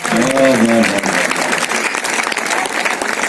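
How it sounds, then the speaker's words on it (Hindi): Applause from an audience at a mushaira poetry gathering in Panchkula, Haryana, dense and steady, with a brief voice near the start before the clapping takes over. "भरपूर तालियां आनी चाहिए।"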